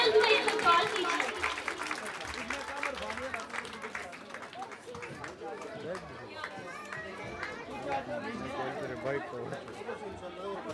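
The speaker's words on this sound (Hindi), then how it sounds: "भरपूर तालियों में उनका इस्तकबाल कीजिए" A school audience at an annual prize distribution ceremony of a Montessori school claps steadily, dense applause fading gradually under constant crowd chatter.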